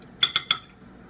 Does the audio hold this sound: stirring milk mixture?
yes